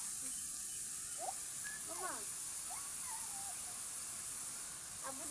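Batter fritters sizzling in hot oil, a steady broadband hiss running evenly throughout, with a voice speaking faintly over the frying.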